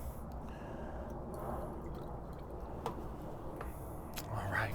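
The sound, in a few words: pouring separated brisket juices into a pan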